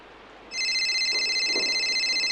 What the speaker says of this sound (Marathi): एवढ्यात मोबाईलची रिंग वाजली